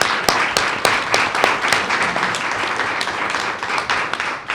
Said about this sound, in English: Give Kaylee a round of applause.